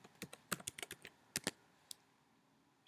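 Code being typed on a computer keyboard, about a dozen crisp, distinct key clicks in an uneven rhythm, close and quiet, stopping before a short silence with no talking.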